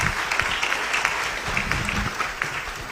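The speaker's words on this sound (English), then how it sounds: "Let's hear a nice round of applause for all of them." An audience at a climate talks event applauds in a short, even burst of mid-level clapping over a room murmur, with faint talk mixed underneath.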